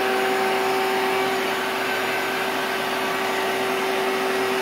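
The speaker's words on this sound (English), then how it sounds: "I have a vacuum to vacuum the cockroaches as they come out" Vacuum cleaner running steadily while sucking up cockroaches in an apartment, a loud constant whooshing drone with a sustained motor whine, close and continuous with no talking.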